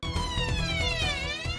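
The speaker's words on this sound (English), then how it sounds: "there's an ambulance coming in" An ambulance siren wails steadily with a sweeping, falling tone, loud and continuous over a low engine rumble outside a hospital casualty department.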